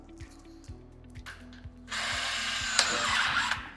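A screw gun drives LA screws into steel drywall framing profiles, giving a steady clicking ratchet that breaks into a louder whirring burst partway through; close, with no voices.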